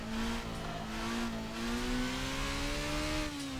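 A Formula open-wheel race car brakes hard from high speed into a corner on the Belle Isle circuit in Detroit, its engine note steady and loud with rising and falling revs as it downshifts, heard alone.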